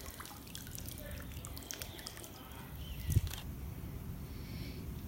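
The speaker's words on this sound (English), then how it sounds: "It's gonna drain. It's draining all the water." Water drains out of a K&F Concept KF-TM2324 underwater tripod as a faint trickle and scattered drips over a low background hum.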